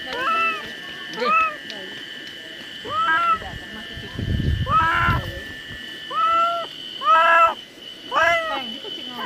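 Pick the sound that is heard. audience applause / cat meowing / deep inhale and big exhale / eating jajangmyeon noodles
cat meowing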